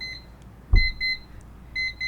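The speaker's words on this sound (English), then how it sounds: "And when it beeps, they know exactly what to do." A classroom cleanup timer beeps loudly in short repeated electronic pulses, bright and clear, with a brief thump near the start and no talking.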